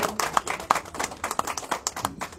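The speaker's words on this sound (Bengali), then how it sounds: "সবাইকে বলবো জোরে হাততালি দিয়ে তাপস রায়কে স্বাগত জানানোর জন্য" Audience clapping to welcome politician Tapas Roy as he joins the BJP, with close, sharp claps landing in a loose, fairly regular rhythm throughout, mostly clear of talk.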